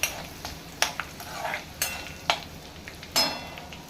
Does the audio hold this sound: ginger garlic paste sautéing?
yes